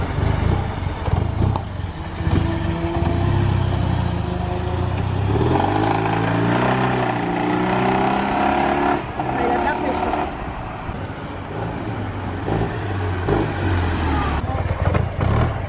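A second-hand Yamaha T-MAX scooter bought for 1000 euros pulls away and accelerates, its engine note climbing steadily as it rides off and fades, with a muffled voice underneath.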